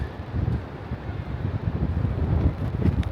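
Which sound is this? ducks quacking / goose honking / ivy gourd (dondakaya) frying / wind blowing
wind blowing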